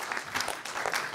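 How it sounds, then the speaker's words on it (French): Audience applause at a BNP Paribas Real Estate conference, a dense, steady patter of many hands clapping for a presenter, moderately loud and continuous without voices. "vous pouvez l'applaudir aussi"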